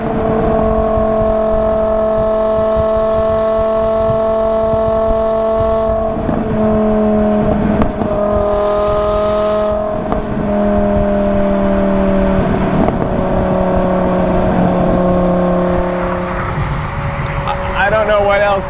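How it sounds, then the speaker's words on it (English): A V10 BMW M6 convertible engine revs hard and loud, its pitch climbing and falling through several throttle blips over a steady roar, with excited voices over it. "V10 BMW M6 convertible. Oh my God. That sound!"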